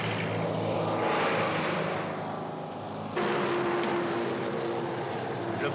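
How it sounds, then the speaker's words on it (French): A propeller airplane passes overhead near an airport in a residential area, a loud sustained engine drone that swells, dips briefly and returns strong. "L'avion, composante indispensable de la vie moderne."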